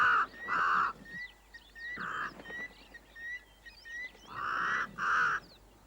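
Crow cawing at a waterhole, loud harsh caws in short bursts of two, with a pause between groups and faint chirping of other birds in the background.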